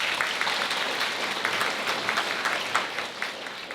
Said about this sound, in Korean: 주례 선생님께로 다시 한번 박수 부탁드립니다